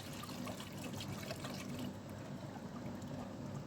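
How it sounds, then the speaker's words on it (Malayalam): Cold milk pours into flour roasted in a pressure cooker for white sauce pasta, a quiet continuous liquid stream and trickle, faint and steady with no talking. "അതിലേക്ക് തണുത്ത പാലാണ് ഒഴിക്കുന്നത്."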